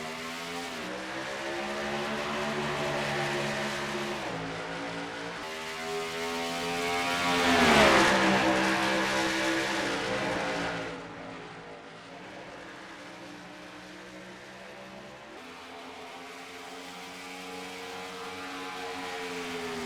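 Race car engines roar together as the field takes the green flag at Nashville in a stock car racing video game, a sustained harmonic drone whose pitch rises and falls and swells to a peak midway.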